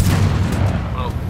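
An explosive bullet fired in Sniper: Ghost Warrior 3 gives a loud, booming report, followed by a brief rumbling tail, while a voice talks.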